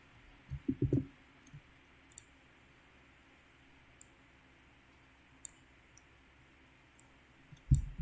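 Computer mouse clicks during work in Microsoft Access, a quick cluster of clicks near the start and another single click at the end, with faint ticks in between over quiet room tone.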